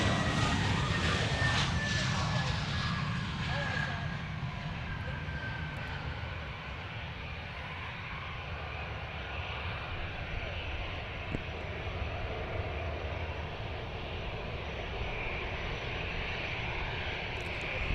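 A Delta Airlines Airbus A320 jet rumbles at an airport, a loud, steady engine roar that sweeps through early on then settles into a sustained drone, with faint voices beneath.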